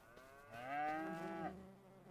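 A cow in a pasture in the video game Farming Simulator 25 lets out one long, drawn-out moo at moderate volume. No other animal calls are heard around it.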